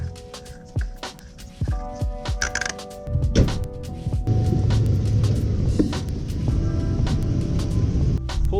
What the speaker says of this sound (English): move the car to a flat area where I can precisely measure